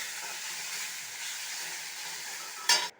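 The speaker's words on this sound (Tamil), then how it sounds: "இதே மாதிரி ஒரு டூ டைம்ஸ் கிளறி விட்டுட்டு வதக்கிக்கோங்க" Ridge gourd sizzles steadily in a hot pan with a soft, even hiss, ending with a brief metallic scrape.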